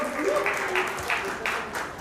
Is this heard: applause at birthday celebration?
yes